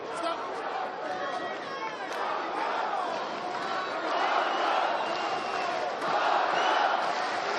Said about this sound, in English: Crowd getting into it. They've cheered during those big flurries.